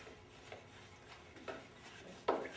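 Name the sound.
stirring thick material in a container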